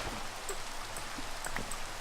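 Steady rain falling in Minecraft Sky Factory, a constant soft hiss with scattered droplet ticks, even and fairly quiet throughout.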